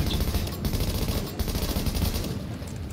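Rapid automatic gunfire from a firefight in The Division, dense bursts of shots rolling continuously and loudly across the whole moment, with no pause.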